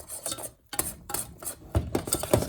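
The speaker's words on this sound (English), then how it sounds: "it's kind of pulling itself off the bottom of the pan too when I scrape" Scraping of homemade nut butter crunch as it thickens and pulls off the bottom of a pan, repeated rough scrapes in an uneven rhythm, close and fairly loud, with no talking.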